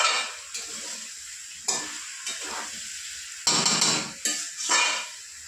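A spoon scrapes and clatters against a pan while young jackfruit curry with salt sizzles, in several separate stirring bursts with quieter frying between them.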